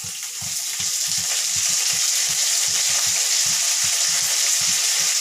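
Green chillies and mint sizzling steadily in hot oil for bagara rice, a dense close frying hiss with soft irregular stirring thumps throughout.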